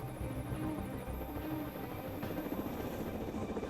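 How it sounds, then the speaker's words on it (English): Military helicopters for a presidential mission approach a small concrete pier landing pad, their rotors a steady, faint rumbling thrum with a constant high whine. "For this presidential mission, not one, but 4 helicopters must squeeze onto the pad."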